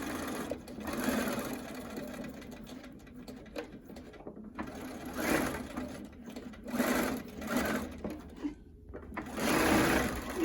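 A sewing machine stitches a fabric face mask in short bursts of rapid mechanical whirring separated by brief pauses, heard close and fairly quiet.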